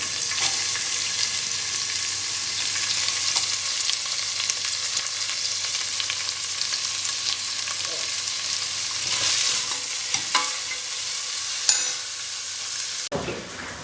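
Thickly cut onion frying in a pan for a leafy-vegetable curry: a dense, continuous sizzle holding steady throughout, with a few faint stirring knocks near the end and no voices.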